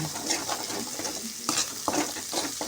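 Mustard seeds and urad dal frying in hot oil for pirandai pickle, a steady close sizzle with crackling pops and a few stirring scrapes, no voices.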